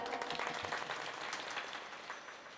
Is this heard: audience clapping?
yes